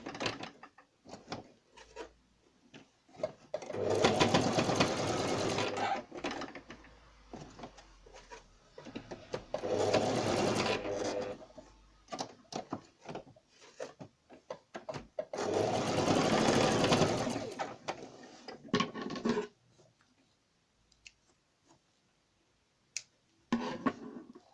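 Sewing machine stitching across a garment placket to lock it, running in three loud sustained bursts separated by pauses, with small clicks and handling noises between runs and no talk.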